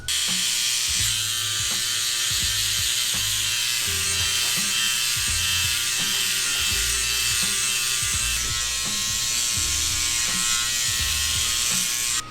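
A close electric 00 hair trimmer buzzes continuously during a head shave, its motor tone shifting slightly as it runs through hair, with no talking.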